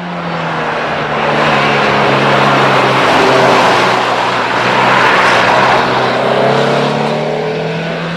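A Renault Clio 16S engine drones loudly at high revs, its pitch holding steady with gentle swells in volume, close and continuous with no talking.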